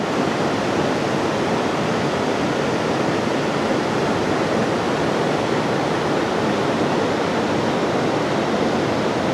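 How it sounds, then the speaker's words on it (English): Monday Falls, a large waterfall in Paraguay in full flow, roars as a dense, steady broadband rush of falling water, loud and close with no break and no voices. "And there you have the Monday Falls in full glory."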